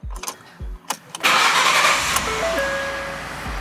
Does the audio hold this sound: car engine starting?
yes